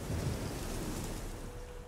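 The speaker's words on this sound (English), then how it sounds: "Rain changing a bit." Heavy rain and a deep rolling rumble of thunder fill the open landscape of The Witcher 3 video game, a dense continuous wash with no voices.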